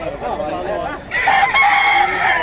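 A young rooster, a stag, crows at a bustling market, one loud, close crow rising over background chatter and voices.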